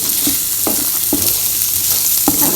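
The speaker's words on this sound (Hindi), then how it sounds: "अच्छी तरह से मिक्स करेंगे इसे और मिक्स करेंगे" A spoon stirring cucumber and corn in a sizzling pan for BBQ rice, several scraping strokes at irregular intervals over a steady loud fry, with no talking.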